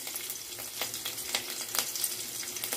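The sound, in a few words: garlic and chopped green chili frying in oil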